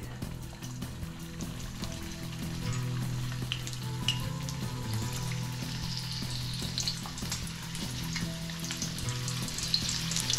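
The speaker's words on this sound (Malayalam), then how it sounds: "നമുക്കിത് ഇത് പൊട്ടറ്റോ വറക്കാനിട്ടേക്കാം എണ്ണ ചൂടായി" Potato pieces for dum aloo frying in hot oil, a steady dense sizzle and crackle that holds evenly loud throughout with small bubbling pops and no talk.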